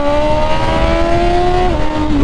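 A motorcycle pulls away in second gear, its engine close and loud with a rising drone that climbs steadily, then shifts pitch near the end.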